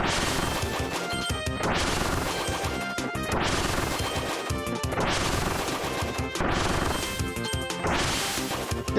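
Enemies bursting apart in Kirby's Return to Dreamland, a rapid run of crunchy smashing explosion effects in quick succession, loud and repeated in bursts every couple of seconds.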